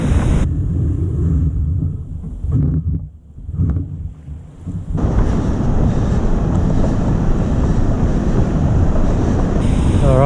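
Surf rolls and breaks along a beach under a 2 m swell at a kayak launch spot, a steady loud wash of broadband noise with heavy wind buffeting on the microphone and a brief lull midway.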